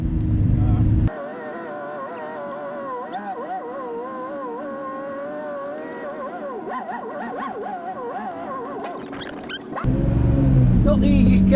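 A Lamborghini on a road trip reversing with a suspect clutch, its engine a steady, moderately loud drone with wavering pitch as revs shift, framed by louder cabin rumble at the start and end.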